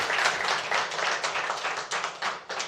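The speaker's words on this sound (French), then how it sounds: "On peut l'applaudir." A business summit audience claps for a presenter, a lively, close, slightly uneven round of applause with distinct individual hand claps standing out in the mix.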